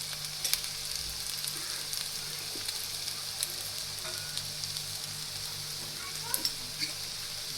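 Potatoes fry and sizzle in a pan with turmeric and salt for a Gujarati potato-and-chili sambharo, with a steady hiss and occasional clicks and scrapes of stirring, close and alone.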